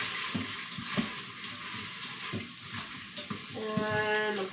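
Pork belly sizzles and spits steadily in a frying pan, a close, continuous crackle with occasional stirring knocks and a brief clink of cookware near the end.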